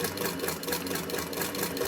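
A vintage sewing machine stitches fabric in a steady, continuous mechanical whir with a fast, even rhythm of needle strokes, heard close up and alone.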